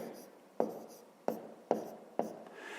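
Numbers are written by hand on paper during a fifth-grade maths exercise, heard as four sharp pen taps each trailing into a short scratchy stroke, close and fairly quiet, with no talking.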